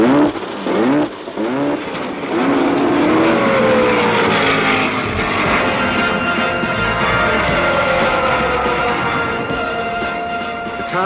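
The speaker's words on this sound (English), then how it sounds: "Gentlemen, start your engine." Race car engines fire up and roar at the California 500, a dense, loud wall of revving that swells and holds with rising and falling pitches.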